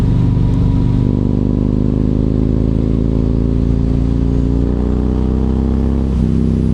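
A Yamaha MT-01 motorcycle engine idles loud and close, a steady throbbing drone that holds evenly, dipping briefly near the end.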